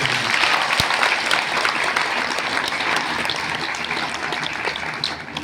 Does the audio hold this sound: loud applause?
yes